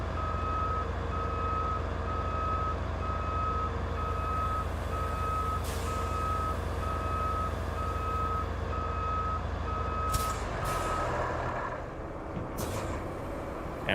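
Truck reversing alarm in RoadCraft, a steady train of evenly spaced beeps over a constant low engine drone, with a few sharp clanks near the end as the engine note drops.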